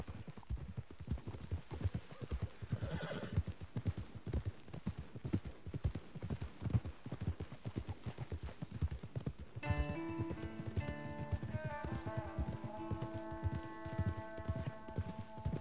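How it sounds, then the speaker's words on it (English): Horses clip-clop at a steady riding pace in the Red Dead Redemption 2 video game, with rhythmic hoofbeats throughout; about two-thirds of the way in, a sustained musical score enters beneath them. "we're riding our horses."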